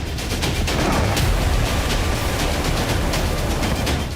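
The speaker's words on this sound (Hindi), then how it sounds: "एक धमाका और पूरा इलाका बारूदी कोहराम से दहला उठा।" A powerful explosion in the war in Ukraine, during a Russian strike, comes through as a loud, sustained roaring rumble with crackling, popping bursts throughout and no voices over it.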